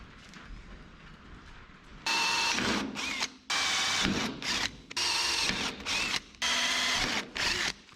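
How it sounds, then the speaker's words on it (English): A power drill boring pilot holes in metal for a homemade dump bed on a mini dually work truck, in several loud close bursts of whining with short pauses between, after a quiet opening. "Drill some pilot holes"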